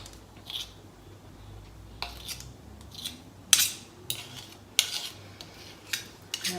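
Banana bread batter being smoothed in a bowl: a series of soft scraping and tapping strokes of a utensil against the bowl, irregular and fairly quiet, with no talking.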